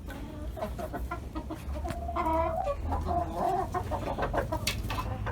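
Chickens clucking steadily on a farm, several birds close by with repeated short calls over a constant low background rumble.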